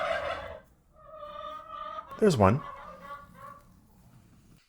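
Hens in a backyard coop during egg collection give a loud squawking, gobble-like burst mid-way, with softer clucks around it and a person talking briefly nearby.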